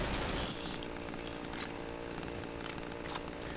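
Chainsaw-wielding enemy in the horror game Cry of Fear, a loud, continuous buzzing saw roar that holds steady throughout with no talking.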